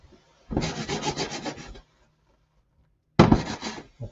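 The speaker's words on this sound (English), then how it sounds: "we want to scrape it off so that the flavors stay in the food and not in the pan" A utensil scrapes caramelized bits off a pan while stuffed bell peppers with eggplant and farro cook, giving a second or so of steady rough rubbing, then a pause, then a shorter burst of scraping, close and fairly loud.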